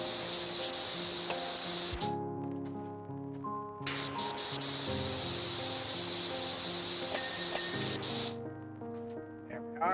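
A pressure washer sprays the underside of a treehouse deck in Powerwash Simulator, a steady loud hiss cut by short pauses, with tonal game music running underneath throughout.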